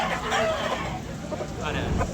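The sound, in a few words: chickens and rooster at a backyard chicken market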